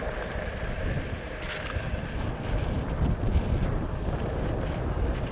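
Wind rushing over the microphone while riding a board downhill on a trail with a tailwind, a continuous low rumbling buffet that swells slightly midway, close and without speech.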